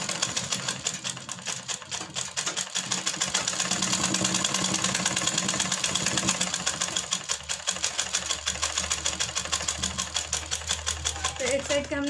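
A sewing machine stitches the fitting on a baby girl's handkerchief-cut frock, running in a fast, steady mechanical rattle with brief pauses while someone speaks over it.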